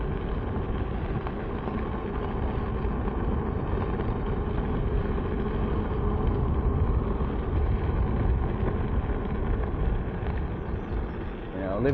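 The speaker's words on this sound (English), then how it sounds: "It's a little bit windy." Steady wind buffets the microphone with a continuous low roar that stays constant throughout.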